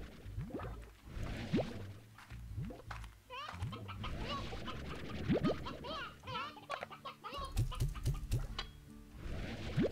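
Hens and roosters in the Slime Rancher video game cluck and squawk in overlapping bursts over a steady game background hum, with a few rising calls standing out.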